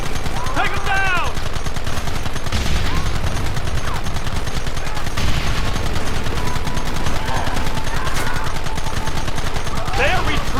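Rapid, loud gunfire in Red Dead Redemption, with overlapping shots and volleys that keep going the whole time, mixed with shouting voices.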